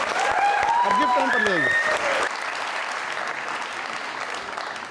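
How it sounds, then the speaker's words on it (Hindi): Studio audience applause for Paro, a contest winner on a talk show, sustained clapping under a host's speech and background music, easing slightly after the first couple of seconds. "पारो के लिए बहुत सारी तालियां जी"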